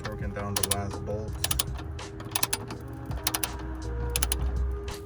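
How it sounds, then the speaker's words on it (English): Bolts on a Ford Focus ST strut bar are torqued down with a ratcheting wrench, giving repeated bursts of clicking between pauses over a steady low hum, with voices talking faintly in the background. "he's torquing down the last bolts."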